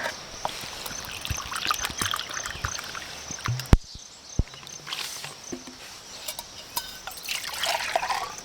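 Water is poured and trickles into a pot for heating on a small alcohol stove at a hammock campsite, a close, light dribbling with a few sharp clinks and drips, against quiet outdoor background.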